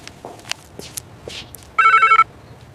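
A short burst of electronic phone ringing cuts in after scattered soft footsteps and small handling noises.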